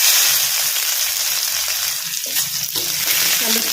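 Crushed garlic drops into hot oil with mustard seeds and cumin, giving a loud, steady sizzle and crackle of frying with a brief stirring scrape near the end.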